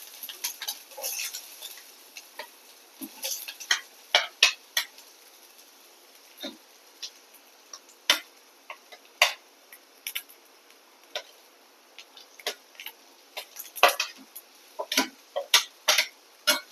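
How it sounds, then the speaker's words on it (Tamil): Chopped big onions frying and being stirred in hot oil while paneer butter masala is cooked, giving a steady faint sizzle broken by irregular sharp ticks and taps of a spoon against the pan, with no voices. "பெரிய வெங்காயம் சேர்த்து நல்லா வதக்கிக்கோங்க."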